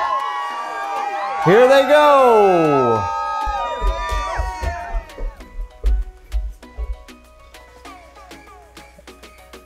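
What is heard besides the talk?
crowd cheering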